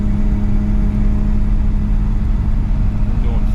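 Engine of a 427 Pontiac business coupe from 1956 driving along, a loud, steady low drone that stays constant from inside the car, with talking over it.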